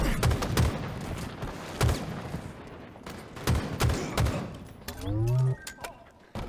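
Gunfire in the shooter game Call of Duty with the Bandit EVO: several sharp, close shots spaced irregularly across the clip, followed by a short rising electronic game effect, with gameplay sounds between the shots.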